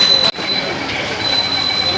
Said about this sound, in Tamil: ட்ரெயின் வந்துடுச்சுங்க.